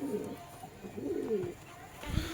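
Low, rolling coos from a male Giribaz pigeon, a couple of soft phrases close by, over a steady background hum.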